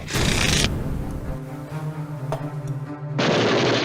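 Gunfire breaking the morning quiet in 1985, heard as a dense burst of loud blasts at the start, a quieter rumbling stretch, then another heavy burst at the end, with no talking.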